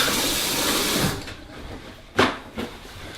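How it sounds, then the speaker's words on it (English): Running tap water hisses steadily for about a second while hands are washed, then cuts off, followed by two brief splashy bursts close by. "So let's wash the hands off real fast."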